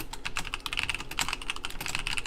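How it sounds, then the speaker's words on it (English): Rapid, continuous typing on a loud, metallic-sounding clicky mechanical keyboard, close to the mic, with dense overlapping keystrokes at an uneven quick rhythm and no talking. "my keyboard is the most metallic clickety clackety mic on existence. I'll type for a second so you guys see how bad this is"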